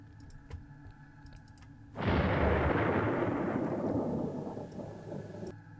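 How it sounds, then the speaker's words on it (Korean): A sudden heavy rumbling roar of close thunder bursts in after a quiet stretch, lingering loud for several seconds and slowly fading amid heavy pouring rain. "번개 소리에 번뜩 잠이 깼는데"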